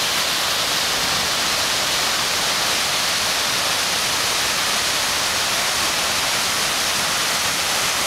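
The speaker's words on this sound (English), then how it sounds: "here I am at yet another waterfall somewhere in Costa Rica" An 85-foot waterfall in Costa Rica roars as a loud, steady broadband rush of falling water, unbroken and close, with no voices.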